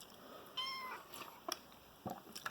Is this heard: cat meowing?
yes